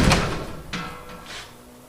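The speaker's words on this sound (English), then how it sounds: "So now when I close it, doesn't drag at all, nice and solid, so my door is secure." A door is shut firmly against its newly fixed framing, landing as one solid thump right at the start, followed by a couple of fainter knocks and clicks as it settles, close by.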